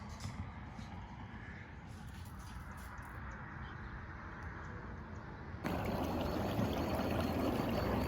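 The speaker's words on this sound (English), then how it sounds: "It's flowing pretty fast over down this section here." Water flows fast through a channel into a home pasture, a steady broadband rush that grows louder and fuller partway through, close and continuous with no talk.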